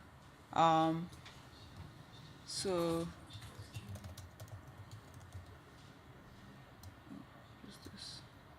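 Soft, quiet keystrokes on a computer keyboard patter irregularly at close range, with two brief voice sounds near the start.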